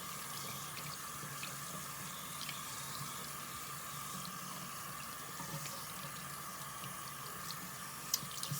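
Tap water runs steadily as soap is rinsed off hands at a sink, a continuous even splashing stream with no talk.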